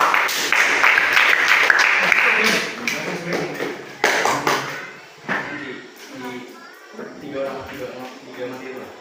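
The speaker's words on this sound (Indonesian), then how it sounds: "Tepuk tangan dulu." An audience claps hands in a dense burst of applause that thins out into scattered claps, with a person talking over the end.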